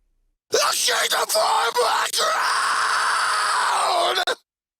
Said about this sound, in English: let's take a listen to these scream channels